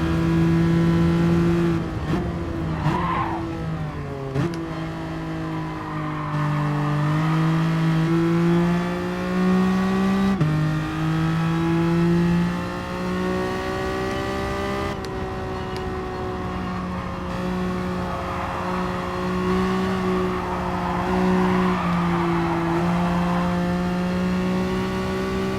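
Tesla Model S electric drivetrain in Gran Turismo, a loud continuous whine that rises and dips as the car accelerates on a straight, with short breaks where the throttle lifts.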